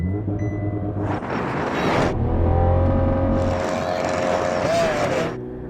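Supercars launch in a race — a Ferrari 488 Pista, a Lamborghini Aventador SV and a Porsche 911 Turbo S tuned to 800 horsepower — with loud, sustained engine roar building in bursts, heard close with some talk over it.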